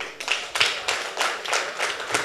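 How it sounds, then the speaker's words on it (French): An audience claps together in thanks to an NGO at a ceremony honouring women artisans in Glazoué, with loud, rhythmic bursts of applause repeating roughly every third of a second. "Disons merci à cette ONG par une grande acclamation"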